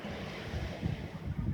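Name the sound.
strong wind at the seaside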